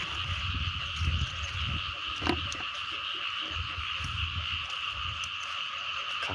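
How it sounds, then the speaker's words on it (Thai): Small frogs croak in a chorus outdoors while someone is out gathering snails, with steady, overlapping calls close by, a high continuous drone above and repeated low croaks, no talking. "กบน้อยมีแต่เขียด"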